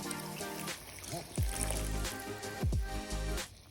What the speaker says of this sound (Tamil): தண்ணியை விட்டாச்சு.